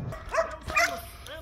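A Malinois guard dog barks during French ring training, giving two sharp, close barks about half a second apart over faint background noise.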